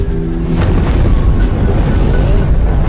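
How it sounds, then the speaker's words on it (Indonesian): Homemade bombs thrown onto a street explode in a loud, rumbling boom that fills the whole stretch with heavy low-end roar and no pauses. "bom-bom yang dibuat oleh si Mirna tadi pun dilemparkan ke jalanan hingga membuat kericuhan besar di jalanan"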